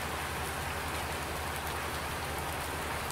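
Steady rain falls in a Farming Simulator 19 farm scene, a dense even hiss of drops on surfaces, continuous and moderately quiet with no voices.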